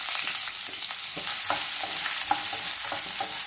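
Thinly sliced onions frying in spiced oil give a steady bright hiss, with scattered scraping stirs from a spoon, moderately quiet and close, with no voices.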